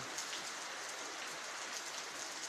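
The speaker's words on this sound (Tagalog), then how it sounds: "habang binabayo at patuloy na hinahagupit ng bagyong Ulysses" Heavy rain from Typhoon Ulysses pours down steadily, a dense, continuous hiss of drops drumming on surfaces, loud and unbroken throughout with no voices.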